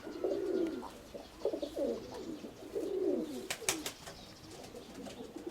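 Soft, throaty pigeon cooing repeats in several rolling phrases, close by, with a few sharper chirps from other birds partway through.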